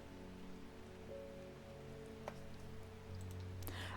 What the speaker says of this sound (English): Hey, it's raining again.